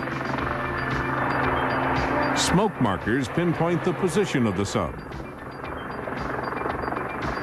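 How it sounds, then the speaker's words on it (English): A Sea King anti-submarine helicopter flies with a steady, droning rotor and engine hum throughout, while a narrator speaks over it for most of the stretch. "The helicopter simply cruises along beside a friendly warship, taking on a fresh supply of jet fuel."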